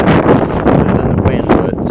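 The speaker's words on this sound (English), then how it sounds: "it is extremely windy" Strong wind blows across a lake on a bass fishing trip, roaring and buffeting loudly against the microphone in steady gusts.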